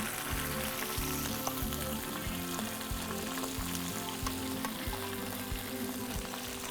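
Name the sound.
green beans with roasted garlic cooking in pan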